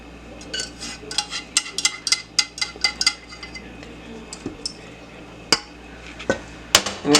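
Utensil repeatedly scraping and clinking against a mixing bowl while peanut butter cake ingredients are stirred into powdered sugar, a rapid run of sharp taps then a few louder knocks, close by with no talking.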